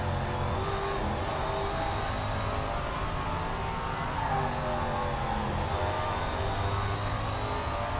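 A Super Late Model race car engine in SRX: The Game, racing at Eastern Hills, drones steadily with a sustained high whine whose pitch sways slightly as the engine revs through corners, loud and constant.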